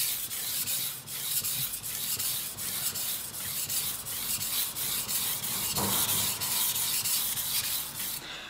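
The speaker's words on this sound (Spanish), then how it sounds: "ángulo un poquito más abierto, pasadas suaves, menos presión. Y cuanto más fina sea la piedra, menos presión todavía" A Chinese Cai Dao cleaver is drawn across a wet water stone in steady, gentle sharpening strokes, a continuous close rasping scrape with regular rhythmic pulses and no talking.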